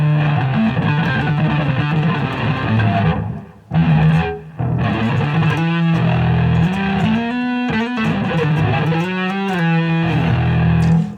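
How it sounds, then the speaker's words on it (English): A bass played through an extreme distortion patch on a Boss GT-10B, loud, buzzy and saturated, sustained notes and riffs with a couple of short gaps and no talking. "Extreme distortion's just that,"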